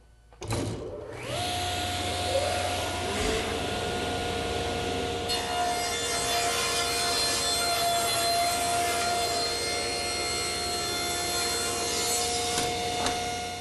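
A table saw rips two wooden boards down to 4 7/8 inches wide in a woodshop, the motor spinning up and then holding a loud, steady whine as the blade cuts continuously through the wood.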